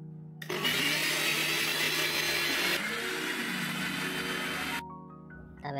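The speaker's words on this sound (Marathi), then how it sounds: "याला आपण मिक्सर मधून ग्राइंड करून घेऊया व्यवस्थित." A mixer grinder blends fried tomatoes with garlic, its motor whirring loudly and steadily for several seconds, the pitch shifting midway as the load changes, then cutting off abruptly near the end.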